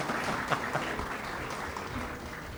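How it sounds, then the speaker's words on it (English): An audience at a postgraduate diploma convocation ceremony applauds gold medalists, a steady wash of clapping heard from a moderate distance with a few sharper individual claps standing out. "Let us once again clap for all these gold medalists."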